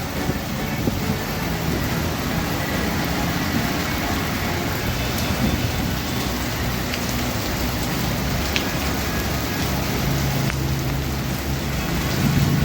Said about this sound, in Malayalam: ഒരു മഴ ഇതാണ് മഴ